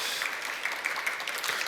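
Brief, modest applause from an interview audience, a steady patter of claps at moderate distance with no voices over it.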